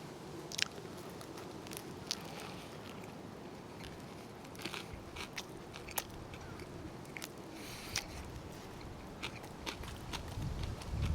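A heavy pork belly banh mi gets bitten and chewed up close, with soft crunching, moist squishing and scattered crackly snaps in a steady, muffled chewing rhythm.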